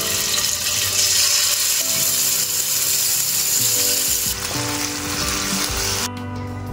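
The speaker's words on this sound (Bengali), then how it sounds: "তেল গরম হয়ে গেলে একটা একটা করে চিকেন দিয়ে দিচ্ছি।" Marinated chicken pieces frying in hot oil for shawarma, a loud, close, continuous sizzle with occasional crackles that eases slightly toward the end, no talking.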